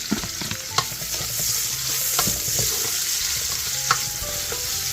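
Onion and garlic fry in a pan for dinuguan with white turnips, a continuous close sizzle with occasional clicks and stirring knocks throughout, and no voices.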